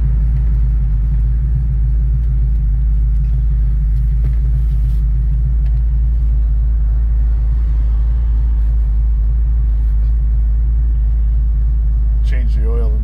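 A Buick GS400 engine running rough on two-year-old gas rumbles loudly and unevenly up close, a heavy low idle with a pulsing, faltering beat; a voice breaks in near the end.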